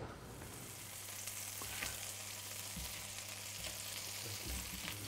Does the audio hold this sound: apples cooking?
yes